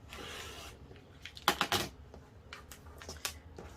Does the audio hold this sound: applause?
no